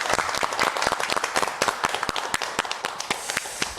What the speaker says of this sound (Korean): 박수 한번 앞으로 주시겠습니까?